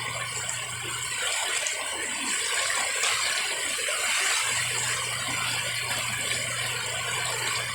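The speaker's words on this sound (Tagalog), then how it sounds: "malakas na po yung agos din eh" Steady broadband rush of fast-flowing, deep floodwater, a continuous loud roar with faint low hum underneath, no voices.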